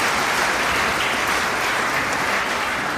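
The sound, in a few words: congregation applauding the national team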